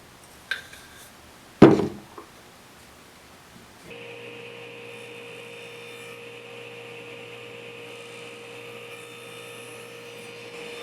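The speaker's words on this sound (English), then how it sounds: "so I'm going to go ahead and cut this slot out" A power tool cutting a slot in wood for a chisel wall holder: a couple of sharp knocks at first, then a steady, even motor drone that runs on at constant loudness.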